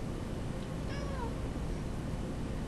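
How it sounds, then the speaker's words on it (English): A house cat gives a single short meow at middle distance, faint against a steady background hiss in an indoor room. "Apparently my cat would like to join in the discussion today."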